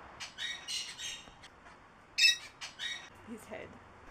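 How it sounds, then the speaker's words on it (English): A macaw at an Ecuadorian site that mixes ancient ruin, museum, garden and zoo, letting out a series of harsh, ringing squawks in short bursts. The calls are moderately faint with a soft murmur underneath near the end. "There's a macaw."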